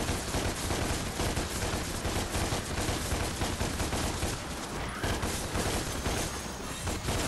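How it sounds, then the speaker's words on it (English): Rapid, sustained gunfire from the guns in the action game DmC Devil May Cry, a dense continuous barrage of shots and bursts filling the whole stretch at steady loudness with no talk. "I was pretty much annoyed immediately with the sound of the gunfire because you do have to shoot a lot."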